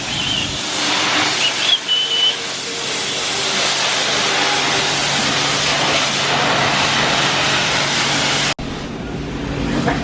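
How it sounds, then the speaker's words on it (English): A car being washed with a water spray gives a steady, loud hiss of spraying water that runs almost unbroken, briefly cut off near the end before resuming, with no talking. "Mag's washing his car."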